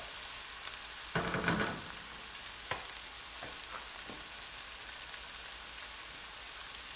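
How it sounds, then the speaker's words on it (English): Cauliflower and mushrooms sautéing in a skillet give a steady soft sizzle, with a brief louder burst of scraping and stirring early on and a few sharp clicks after it. "We're going to be basically, I guess, kind of sauteing these cauliflower until they're toasty brown a little bit on the outside."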